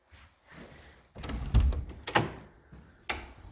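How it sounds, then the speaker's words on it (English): A house-style screen door at an old rustic church swings open and shut, giving a few close, sharp thumps and clacks over a quiet room. "There's just a screen door like you'd find on a house."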